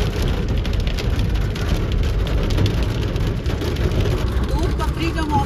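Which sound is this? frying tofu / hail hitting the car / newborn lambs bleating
hail hitting the car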